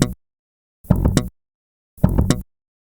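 An electric bass plays a triplet from a song: a ghost note, a left-hand hammer-on and a pluck, heard as three short, separate, close notes with silence between them.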